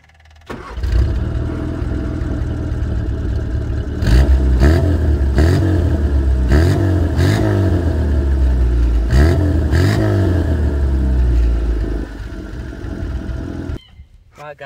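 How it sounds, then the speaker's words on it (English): A classic Mini engine cranks and catches, then settles into a loud, close idle broken by several sharp throttle blips that rise and fall before the engine shuts off near the end. "So I'll just fire up, show you how she starts and give her a few revs."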